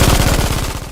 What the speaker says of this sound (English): would be absolutely terrified by the mere sound of an MG42